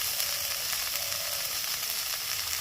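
Coriander leaves frying with onion bori in a pan, a steady bright sizzle that holds evenly throughout at moderate, close volume with no voices.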